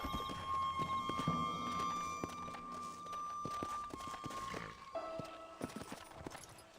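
Horse hooves clip-clop at a walk in the Red Dead video game, steady and fairly close, over a soft game ambience with sustained musical tones. Brief stray game sounds come in toward the end.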